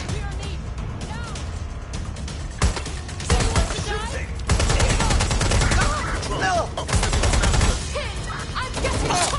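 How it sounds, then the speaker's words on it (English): Gunfire in the video game Watch Dogs Legion comes in dense bursts of rapid shots and impacts, loud and continuous, with game voices and radio chatter over the shooting. "I'm getting shot at here."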